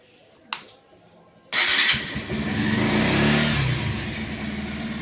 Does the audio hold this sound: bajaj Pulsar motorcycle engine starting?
yes